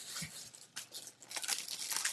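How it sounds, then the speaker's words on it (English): Deli paper crinkles and rustles as it is handled and laid flat over a food wrap, a crisp papery crackle with a few brief tears, close and steady, no talking. "lay my deli paper on top of that."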